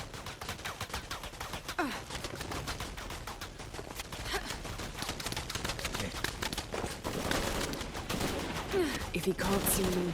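Rapid bursts of gunfire crackle through a firefight in the video game Shadow of the Tomb Raider, loud and dense throughout, mixed with shouting voices.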